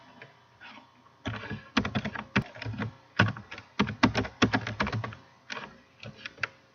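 Computer keyboard typing during Excel data entry: clusters of quick, close plastic key clicks in irregular bursts with short pauses, fairly quiet and heard alone.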